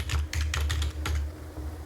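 Close keystrokes on a computer keyboard: a rapid burst of about seven or eight clicks, then a brief pause and a couple more taps.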